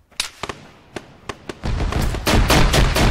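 Gunfire in the Arma 3 Exile video game: several sharp, separate shots in the first second and a half, then a dense, loud burst of rapid firing with no talking over it.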